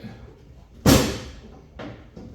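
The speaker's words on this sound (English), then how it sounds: "That's just the door handle slipping off a little bit." Single sharp clack as a car door handle slips off on a 1960s–80s GM Nova-type car during door glass installation, followed by two fainter clicks; close and brief.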